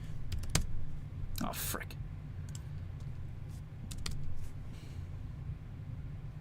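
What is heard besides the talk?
typing on a computer keyboard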